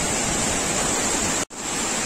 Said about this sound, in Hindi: अभी जितना जोर का पानी आ रहा है, पानी का स्पीड बहुत ही जोर है